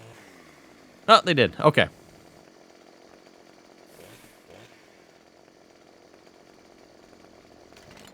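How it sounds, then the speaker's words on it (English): Game chainsaw from Farming Simulator 15 cuts at branches and logs on a forest map. It gives one loud burst of under a second, with a softer buzz after it, then steady low engine hum and quiet speech. "Now I could cut these with a chainsaw."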